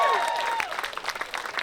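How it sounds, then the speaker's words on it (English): Short burst of audience applause at a live comedy show, opening with a whistle-like tone and quickly thinning into scattered claps. "Let's give Lucy a round of applause"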